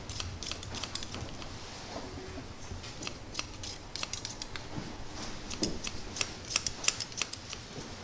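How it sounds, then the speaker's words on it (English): Barber shears snipping hair in quick irregular bursts, close and crisp, as a side part skin fade is fine-tuned; no voices are heard. "I really like to use shears for this part because it's fine-tuning everything"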